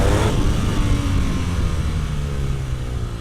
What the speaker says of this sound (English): the engine will kind of hold the revs for a little bit